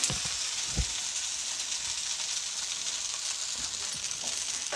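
Masala dosa cooking in oil on a hot pan as it is flipped, giving a steady, close hiss of sizzling throughout with a few soft scrapes, no voices.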